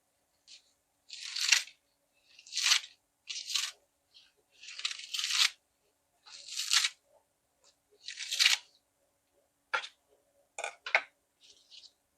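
Handfuls of leeks and onions being cut up in quick, crisp bursts of snipping and crunching, close and fairly quiet, with short pauses between each cut.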